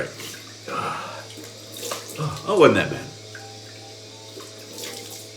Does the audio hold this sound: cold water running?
yes